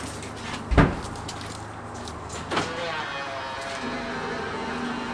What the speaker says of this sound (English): I'll open the car.